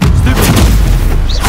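A loud, rumbling explosion from the Confringo spell in Hogwarts Legacy, played on PS4, fills the moment with heavy low booms and crackling bursts.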